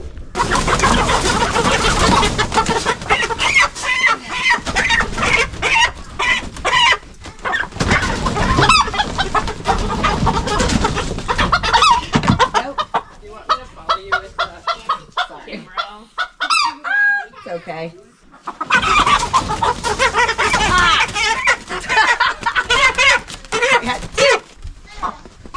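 Chickens cluck and squawk loudly up close, with honking fowl calls among them and a brief spoken word partway through.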